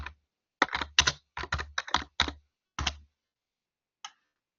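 Typing on a computer keyboard, close and crisp: short bursts of rapid key clicks separated by brief pauses, ending with a single isolated keystroke.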